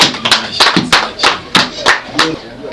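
Guests clap at a Rwandan wedding celebration, about eight sharp, evenly spaced hand claps in a loud rhythmic beat. Voices and background sound mix in beneath them.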